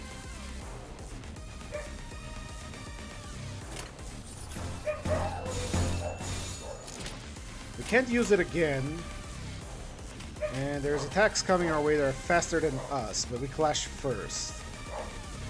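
Pet dogs bark and yip in the room behind someone commentating a game, the barks sharp and repeated in short bursts, heard under and between his talk.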